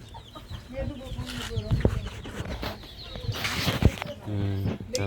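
Chickens cluck and squawk close by while people talk in the background, with a longer cackling call near the end.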